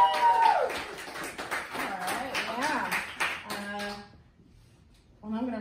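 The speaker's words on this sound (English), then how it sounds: "Please give a great big round of applause to the very funny MV!" A small stand-up comedy club audience claps in a brief, thin burst of applause that stops abruptly, with voices heard before and after.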